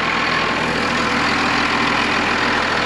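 A 1953 Kenworth bus engine idles loudly and steadily up close with the engine compartment open, a dense continuous rumble with a faint regular throb underneath and no voices.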